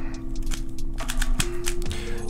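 A MoYu RS3M 2020 speed cube turned rapidly during a solve, producing a dense run of light plastic clicks and clacks over a steady background hum, with no talking.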